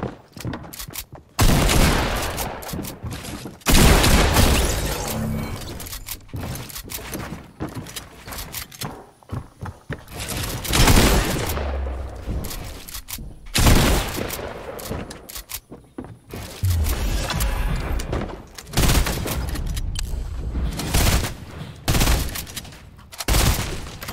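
Video game gunfire in repeated loud bursts of rapid automatic shots separated by short quiet gaps, with occasional thuds and footsteps between the volleys.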